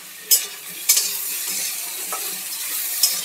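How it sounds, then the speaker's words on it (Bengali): Greens with ridge gourd, eggplant, salt and three green chillies stirred in a frying pan, a steady sizzle broken by a few sharp scrapes and clinks of the spatula against the pan. "একটু নেড়ে চেড়ে ঢেকে দেবো 2 মিনিটের জন্য।"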